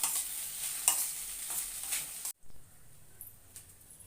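Peanut powder is stirred into soft sabudana khichdi in a pan, with a low sizzle and soft scraping strokes close by that break off in a brief silence, then resume faintly.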